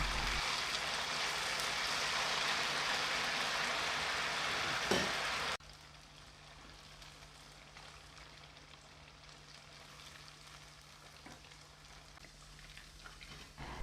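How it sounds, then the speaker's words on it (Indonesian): Steady loud crackling sizzle of pempek deep-frying in hot oil, then it drops abruptly to a much quieter hiss. "Kita goreng pempek sampai matang dan kering."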